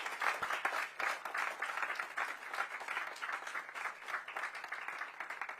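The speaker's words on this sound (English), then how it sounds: "Give them a big applause, guys." An audience claps for new engineering students at a first-year welcome event in a college hall, steady applause that sounds somewhat distant and fairly quiet, continuing throughout.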